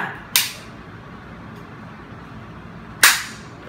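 Two sharp, loud gunshots crack about two and a half seconds apart, each with a brief ringing decay, standing alone against a quiet background as rebels open fire.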